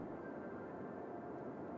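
Airplanes fly low over a city in the game Cities Skylines, giving a steady droning rumble of engine noise that holds constant and even, with no talk over it.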